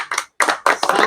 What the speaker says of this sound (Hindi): ताली भी तो बनना चाहिए सर